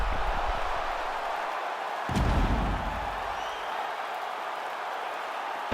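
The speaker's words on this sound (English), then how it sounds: "the crowd voicing its appreciation after that round" A crowd in the UFC 5 video game applauds and cheers after a fight round, a broad steady roar at moderate level that swells briefly midway.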